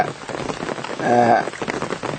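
Steady rain falls on young green rice seedlings in flooded paddy fields after a long drought, a dense close patter with a brief tonal, voice-like sound in the middle.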